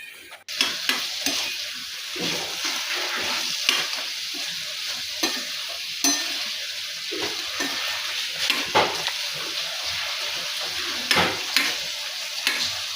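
Eggplant bhaji sizzling in a pan, a continuous frying hiss broken by repeated scraping and clinking as a utensil stirs the vegetables against the metal.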